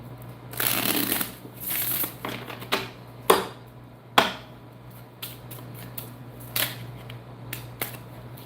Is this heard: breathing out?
no